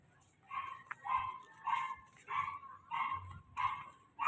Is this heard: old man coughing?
no